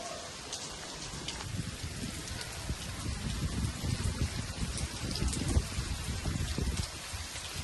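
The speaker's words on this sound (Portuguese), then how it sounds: "Eu queria colocar para você aqui um vídeo, eu mesmo gravei lá na minha casa, da esperada chuva dessa semana." Steady rain falls around a house after a long dry spell, a dense, even hiss of drops on surfaces with heavier patter throughout and no voices.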